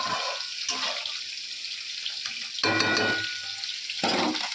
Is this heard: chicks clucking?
no